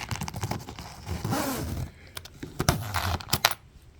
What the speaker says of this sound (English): Oops, I almost forgot to zip this up.